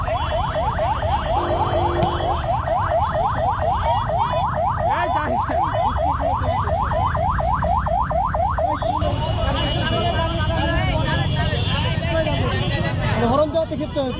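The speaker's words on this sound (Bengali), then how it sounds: "হরণ বাজাচ্ছে।" A vehicle horn sounds on a Dhaka street as a rising, wavering, siren-like electronic tone that repeats for about nine seconds, heard over crowd babble and talk.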